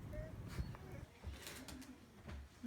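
Soft cooing of pigeons or doves nearby on a snowed-in farm during a blizzard, faint and low, repeated a few times against quiet outdoor background noise.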